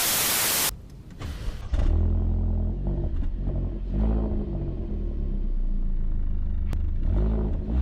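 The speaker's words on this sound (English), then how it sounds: "get some exhaust shots, so that's what I'm going to do" A car's exhaust rumbles and revs in a quiet car park, a deep close engine drone that swells with throttle blips after a brief burst of wind noise at the start.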